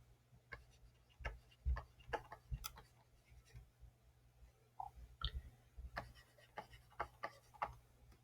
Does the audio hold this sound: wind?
no